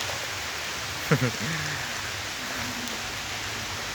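Rain pouring by the Batanghari river while sheltering under a bridge during a hampala fishing trip, a steady dense hiss throughout, with a voice briefly breaking in over it.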